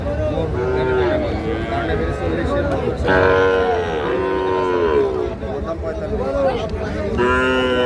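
Sahiwal calf about five to six months old mooing repeatedly at a busy cattle market, loud, drawn-out calls close by over a constant crowd murmur and background voices.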